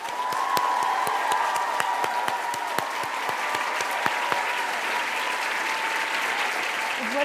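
A large Toronto audience at an author event welcoming Judy Blume breaks into sustained applause, thick even clapping with occasional sharper claps standing out, continuing without letup.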